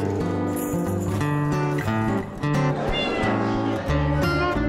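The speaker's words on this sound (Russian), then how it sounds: "Сегодня Бьорн, Илса и Бьята состязаются в классе котят" Norwegian Forest Cat kittens meowing at a cat show, several clear cries close by and repeated over a busy background with music and other sounds.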